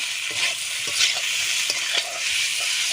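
Egg pasta seasoned with salt and turmeric is stirred in a pan, a steady bright sizzle carrying repeated soft scraping strokes of the spoon, close and alone without talk.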